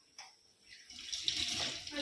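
Curry leaves are washed under a running kitchen tap; after a soft click the water gushes on and splashes steadily, close and fairly loud, building toward the end.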